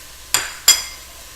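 Two sharp clinks of a utensil against a pot while garlic, ginger and hot pepper are stirred into a low-carb vegetable soup, each tap ringing briefly and close with quiet in between.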